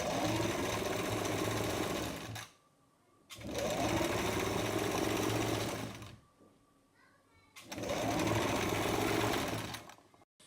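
Sewing machine stitching the side seams of a palazzo trouser, running in three loud, steady bursts of about two to three seconds each, with brief quiet pauses between them.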